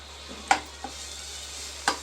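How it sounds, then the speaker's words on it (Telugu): Crushed garlic, still in its skins, frying in hot oil: a soft, faint sizzle with a few sharp utensil clicks against the pan. "వేడైనాక ఎల్లిగడ్డ పొట్టుతోటే బాగా దంచి ఆ ఆయిల్లో ఫ్రై చేసుకుంటుంది"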